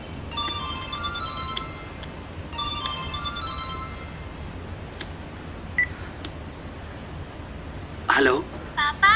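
A mobile phone rings with a repeating electronic ringtone in short bursts, heard clearly over a room in a Bhojpuri film scene, followed by a few brief tones near the end.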